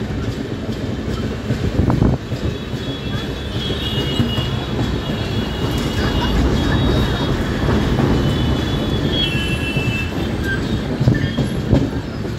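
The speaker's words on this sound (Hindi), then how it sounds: "हमारी ट्रेन सरपट दौड़ रही है," The Udyan Express passenger train running fast on the rails, with a loud, steady rumble, rattling carriages and rhythmic wheel clatter heard from inside the coach.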